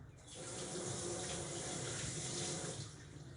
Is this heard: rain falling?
no